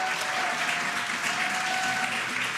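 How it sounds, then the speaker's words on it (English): A crowd applauds steadily throughout a NASA spacecraft's drogue parachute descent, a continuous wash of clapping at moderate distance with no break. "You can hear the crowd here."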